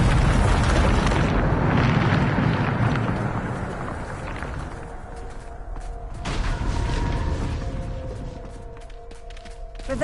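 A Bombarda spell explosion in the Hogwarts Legacy video game erupts with a heavy rumbling blast that fades over several seconds, followed by a secondary thud and lingering tonal magic shimmer.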